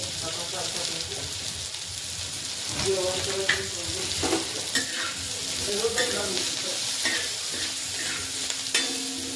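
Chopped onion frying in a pan with salt and turmeric, a steady loud sizzle with a spatula scraping and stirring now and then, close up.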